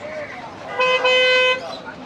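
A vehicle horn sounds as a vehicle approaches through a busy market selling ducks and chickens at Tongi Haat, Bangladesh, one loud sustained toot with a brief break, under and between nearby talk.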